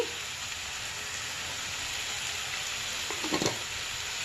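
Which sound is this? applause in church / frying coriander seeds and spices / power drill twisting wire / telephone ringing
frying coriander seeds and spices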